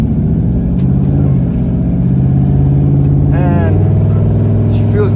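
A Gen 2 Coyote car engine with a single turbo idles steadily and loudly, a constant deep rumble held throughout with a brief rise in tone partway through.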